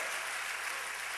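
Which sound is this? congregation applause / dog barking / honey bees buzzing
congregation applause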